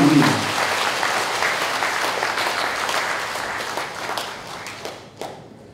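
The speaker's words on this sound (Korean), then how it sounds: "우리 김소수 국장님에게 큰 경의의 박수를 한번 우리 함께 보내주셨으면 합니다" An audience at a Buddhist world peace prayer service applauds director Kim Soso, with dense sustained clapping from a large crowd that gradually thins and fades to a few scattered claps.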